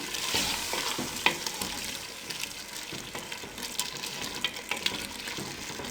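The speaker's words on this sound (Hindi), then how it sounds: "अब चमचे की मदद से अच्छे तरीके से इसको मिक्स कर लें।" A spoon scrapes and stirs through a mixed-vegetable curry in a pot, with irregular clinks and a steady sizzling hiss underneath.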